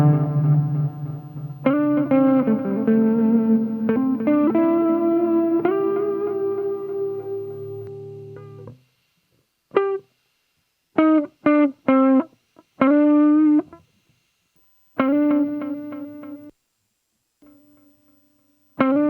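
KMA Cirrus guitar pedal putting reverb and repeats on guitar notes and chords. A sustained passage fades out, then short bursts of playing follow, each ending with an abrupt cutoff and no lingering tails, and no voices are heard.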